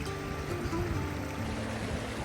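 A Scottish river flows in a steady, rushing wash of water, close and continuous with faint tonal hum underneath, no talking.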